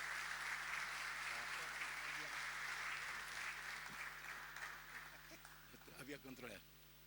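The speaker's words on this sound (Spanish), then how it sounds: "Lo recibimos al doctor Nicolás con un fuerte aplauso" An audience in a church applauds steadily, dense clapping that fades over several seconds, with voices rising as it dies down near the end.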